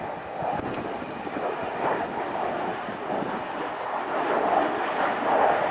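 An Avro Vulcan XH558 bomber roars past at a distance at RIAT air show, bomb doors closing, a broad steady rumble that swells slightly toward the end, with no clear talking.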